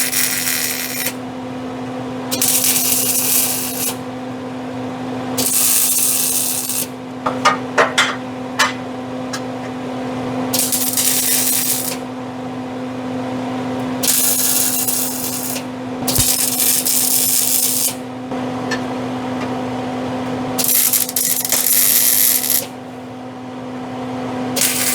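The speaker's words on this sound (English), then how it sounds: "Well, let this welding weld." On a rusty car being repaired, a welder makes repeated bursts of bright, crackling hiss as body panels are tacked in. Each burst lasts a second or two with short gaps between, over a constant low electrical hum.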